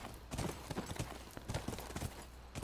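A horse's hooves clip-clop in a steady walking rhythm in the video game The Last of Us, each hoof strike crisp and close, repeating evenly with no talk over it.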